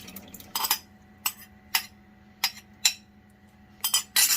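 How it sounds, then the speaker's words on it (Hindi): Soaked aloo bukhara (apricot plums) and their water transferred into a metal cooking pot for chutney: a series of close, bright metallic clinks and utensil scrapes against the pot, irregularly spaced, with no talking. "बर्तन में डाल रही हूँ।"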